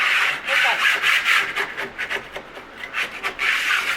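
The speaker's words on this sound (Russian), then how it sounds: "Торцом кельмы я его чищу." Steel trowel edge scraping back dried decorative travertine plaster on a wall in uneven rasping strokes, a steady close scratching with short pauses and no talk.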